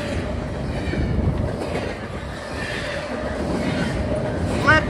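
A freight train led by a single SD40 locomotive rolls past from Selkirk Yard toward Worcester, a steady low rumble of wheels and cars with faint clatter and a brief high squeal near the end, continuous and moderately close.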